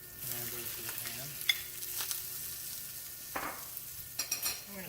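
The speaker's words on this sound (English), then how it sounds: "I'm going to saute those up for just a couple of minutes." Leeks sauté in a pan, a steady soft sizzle under intermittent scraping strokes of a spoon stirring, close up with no talking.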